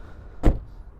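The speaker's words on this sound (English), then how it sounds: "you can slam that door and it shuts like a safe" The door of a vintage Mercedes-Benz 300D, left sitting for 20 years, shuts with a single solid, heavy thud at close range, a short, deep, muffled impact against a quiet background.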